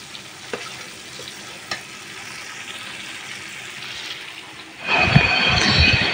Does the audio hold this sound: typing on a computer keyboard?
no